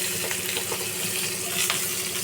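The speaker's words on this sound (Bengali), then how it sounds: "এবার আমি কুচিয়ে রাখা পেঁয়াজ দিলাম" Oil sizzles and crackles steadily up close with black cumin, with a brief rise in the spitting near the end as chopped onions hit the hot pan.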